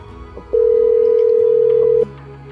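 An outgoing phone call to an office: a steady, loud single-pitch telephone tone sounds alone for about a second and a half, then cuts off abruptly.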